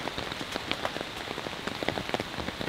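Rain falls steadily on surfaces at a highland livestock barn, with dense patter and distinct close drops ticking throughout.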